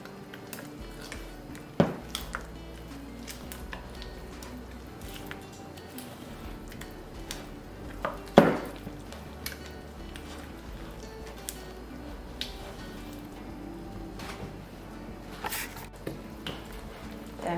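Sweet potato honey cornbread batter stirred in a bowl, giving soft repeated squishing and scraping with a few sharper clinks of utensil against the bowl, close and steady throughout.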